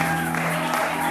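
A church congregation cheers and applauds, a dense, loud wash of clapping and voices filling the room without a break.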